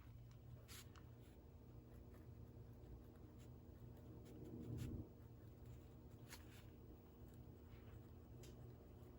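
Pen writing in a bullet journal, soft scratchy strokes in short bursts against the paper, close and quiet, with a faint low background hum.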